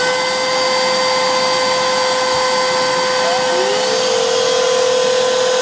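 Several Black+Decker 20V Max cordless handheld vacuums run together with a steady, loud motor whine and strong airflow hiss, holding constant throughout with a slight pitch rise near the end.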